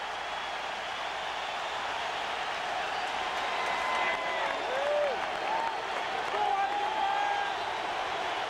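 Crowd at a baseball stadium applauding with the bases loaded, a sustained broad roar of clapping and cheering from many fans, with faint whistles rising and falling through it.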